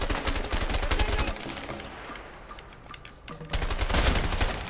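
Bursts of gunfire from a shootout in the video game A Way Out, loud volleys at the start and end with a quieter stretch of scattered single shots in between.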